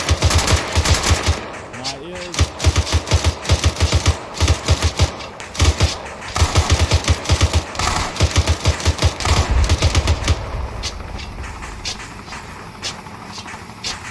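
Sustained automatic rifle fire in Arma 3 military simulation gameplay, loud rapid bursts of shots repeating for about ten seconds, then thinning to scattered fainter pops.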